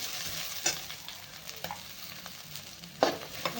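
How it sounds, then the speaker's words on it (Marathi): Grated coconut roasts with onion in a home kitchen pan, a soft low sizzle broken by a few sharp scrapes and stirring taps from a spatula. "खोबऱ्याला जास्त नाही आपलं थोडं थोडंसं भाजून घ्यायचं आपल्याला"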